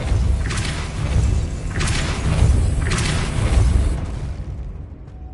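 Depulso spell cast in Hogwarts Legacy, sounding as three broad whooshing bursts about a second apart over a low rumbling game backdrop, each with a thudding impact before fading out.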